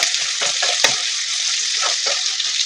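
Sliced onions, green chillies and curry leaves frying in hot oil for aloo curry, a loud dense sizzle with a few soft scrapes as they are stirred.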